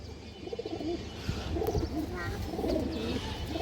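Pigeons coo in a series of soft, rolling calls close by, several overlapping bursts over a low murmur of background noise.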